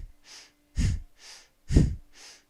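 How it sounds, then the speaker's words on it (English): Breath of fire breathing exercise with rapid, equal inhales and exhales through the nose, five close, even breath bursts alternating in a steady pumping rhythm, each a loud airy rush. "Breath of fire is equal inhale, equal exhale. The belly moves, but the focus is on the third eye point, and the breath is in and out through the nose."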